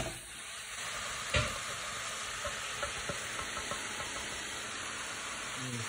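Bell peppers fry with salt and garlic in a hot pan for chicken fajitas, a steady close sizzle broken by a sharp clatter as they go in and a few light taps of stirring.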